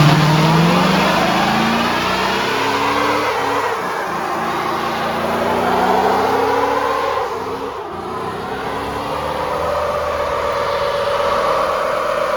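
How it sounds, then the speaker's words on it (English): An abandoned police car, left sitting for three years on old gas, revs hard during a burnout, with a sustained loud engine roar that rises and dips and tyre noise close by. "I'm gonna see if this thing even does a burnout with 3-year-old gas and garbage"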